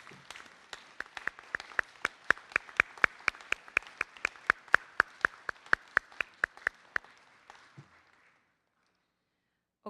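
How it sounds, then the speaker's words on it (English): Hands clap in a crisp, evenly spaced beat at an awards ceremony honoring the 2017 Dukes of Distinction, about thirty sharp claps over a faint crowd wash that fade out and leave near silence. "Please give them a round of applause."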